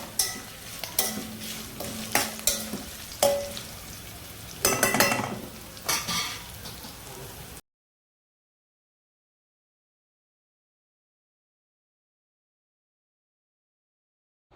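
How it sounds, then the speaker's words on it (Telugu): Cooled cooked rice goes into a pan of fried tempering for ajwain rice, bringing a soft sizzle and a run of spoon clinks and scraping stirs against the pan for several seconds before falling silent. "ఇప్పుడు వీటిలో మనం రైస్ అయితే వేసుకోవాలి"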